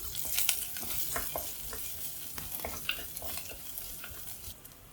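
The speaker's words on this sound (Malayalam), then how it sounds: "ഉള്ളിയൊക്കെ ഒന്ന് നന്നായിട്ട് ഗോൾഡൻ ബ്രൗൺ ആവുന്നവരെ ഒന്ന് ഇളക്കി കൊടുക്കാം" Shallots, curry leaves and dried chillies fry in hot oil while being stirred, a steady sizzle with scraping strokes of a spoon through the pan, close and moderately loud, with no talking.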